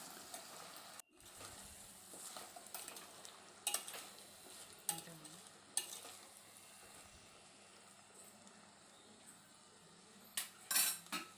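Turmeric and salt stirred into a drumstick milk curry in a pot, with scattered clinks and scrapes of a spoon against the vessel over a faint low sizzle, a few louder knocks near the end.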